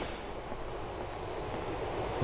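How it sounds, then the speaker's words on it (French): Metro train arriving at a station in the video game GTA 4, a steady low rumble and rolling rail noise filling the clip at an even, fairly loud level with no talk. "Attends que le métro arrive."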